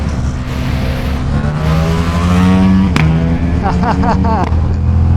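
A Ducati Diavel V4 motorcycle engine revs hard with sharp exhaust pops at each gear shift, loud and close, over a constant roar of traffic, with a voice speaking over it.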